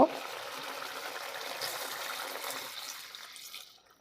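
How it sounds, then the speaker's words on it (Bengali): Water poured into a pan of fish curry to make the gravy makes a steady splashing pour close by, which thins and fades out near the end. "এখন আমি এখানে ঝোলের জন্য পরিমাণ মতো পানি দিয়ে দিব"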